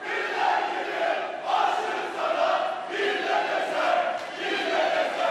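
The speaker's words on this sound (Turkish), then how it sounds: "Konuşması da sık sık sloganlarla kesildi." A large crowd chants slogans in rhythmic waves at an anniversary rally for Turkish President Erdoğan's AK Party, the loud massed voices swelling and falling steadily with no single speaker heard.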